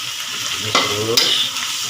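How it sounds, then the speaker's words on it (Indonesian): Cinnamon sticks and spices stir-frying in a pan for Batak-style soy sauce pork, giving a steady close sizzle with two brief scraping strokes of the spatula partway through. "Nah kita tumis dulu, masak lagi terus."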